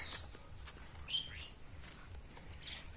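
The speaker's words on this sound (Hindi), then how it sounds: "चिड़िया की भी आवाज़ सुनाई दी, कितनी प्यारी थी।" Faint, high bird chirps scattered through the clip, distant and soft over a quiet outdoor background.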